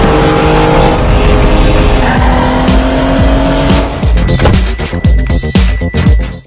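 A sports car pulls away hard with loud revving, squealing tires and rising engine pitch, close and dominant before breaking into choppy bursts as it drives off, with no talk.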